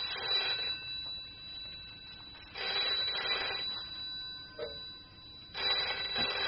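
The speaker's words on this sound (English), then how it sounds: "The phone's ringing, dear." An indoor telephone bell rings in three separate bursts with short gaps between them, steady and moderately loud in a quiet domestic room.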